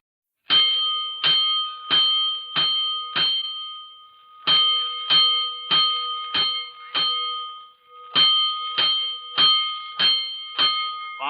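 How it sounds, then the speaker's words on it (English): A fire-alarm bell strikes in three rapid groups of five metallic rings as a 1949 radio drama sound effect. The tones are loud, bright and close, with each ring decaying briefly before the next, and there is no talk. "Five bells. Stand by all stations. Attention, all districts. A 5-alarm fire. 5 bells."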